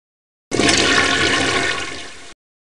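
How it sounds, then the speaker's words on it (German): Water rushes out in a loud, steady surge as a drain valve is opened fully in a simulated level-control tank; it starts abruptly, holds a broad hiss, then tapers slightly before cutting off. "Das schnelle Öffnen des Ablaufschiebers senkt den Wasserspiegel drastisch."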